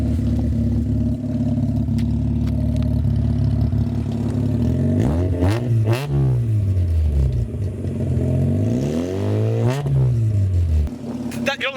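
A streetport Mazda RX-7 FC with a custom single exit exhaust idles with a rough, lumpy burble, then revs sharply twice, each rev rising and falling back to idle, loud and close, while voices talk over it.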